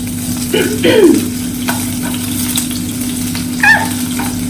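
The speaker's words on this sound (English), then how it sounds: "I'm just about to chuck the onions in." Onions tossed into a hot pan give a steady, moderate frying hiss, with a few brief clatters and spurts of sizzle over a constant low hum in a home kitchen.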